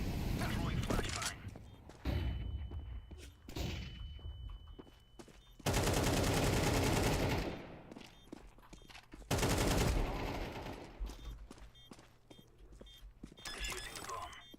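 Counter-Strike gameplay with bursts of gunfire and grenade blasts, including two loud, sustained explosive roars of a few seconds each, mixed with rapid shots and game noise while players talk over it.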